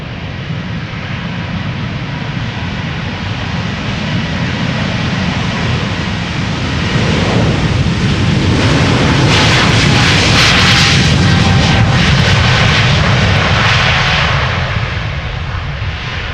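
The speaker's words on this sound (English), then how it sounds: "In the meantime, taking off to Sao Paulo, 777-300" A Boeing 777-300 airliner takes off from Amsterdam Schiphol, bound for Sao Paulo. Loud, steady jet engine roar builds to a peak with crackling rumble, then holds without fading.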